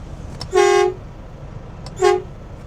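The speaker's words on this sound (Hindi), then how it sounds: "उसको मैंने इसलिए हॉर्न दिया" Horn of a Canada-to-USA long-haul truck at a loading yard, two loud honks, the first held almost half a second and the second shorter, close by over faint road ambience.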